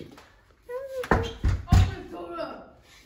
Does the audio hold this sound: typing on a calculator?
no